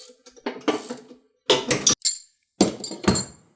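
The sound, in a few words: wrench loosening lawnmower deck spindle nut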